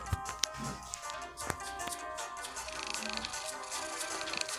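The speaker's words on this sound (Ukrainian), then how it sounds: "Котик мурчить." A cat purring inside the video game Dark Riddle, a steady low rumble running under scattered clicks, taps and game sounds, fairly quiet and close, with no talking.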